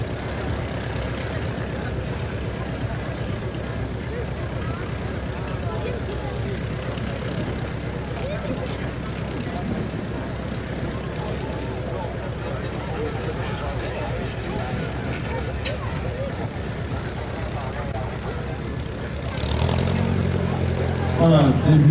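A Nieuport 28 vintage biplane's engine idles steadily as the aircraft begins to taxi at a French airfield air show, a continuous propeller drone that swells louder near the end, with an announcer talking over it.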